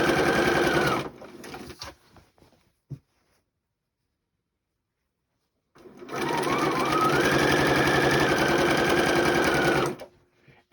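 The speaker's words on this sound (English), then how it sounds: "I can just kind of line it up and stitch along that edge there" A sewing machine stitches along the edge of a tea towel in two steady bursts of whirring, separated by a few seconds of silence with light handling clicks, close and fairly loud.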